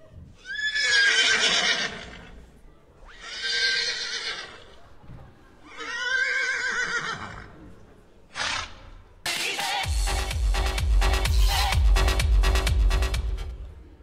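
Three or four loud horse whinnies, each a couple of seconds long, followed by a burst of busy clattering noise and thumping.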